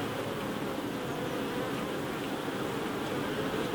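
A dense, continuous drone of honeybees swarming around an opened beehive during a super inspection, steady and close throughout with no talking.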